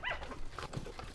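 Dog during a rat hunt, a single short bark or yelp close by over steady outdoor background noise.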